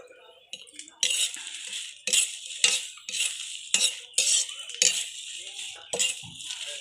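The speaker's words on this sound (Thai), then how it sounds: "คั่วให้มันเป็นจุดจุดสีดำๆนะคะ" Chillies dry-roasting in a pan, heard as a series of bright metal scrapes and rattles from a spoon or spatula stirring them, close and rhythmic with short gaps between the strokes.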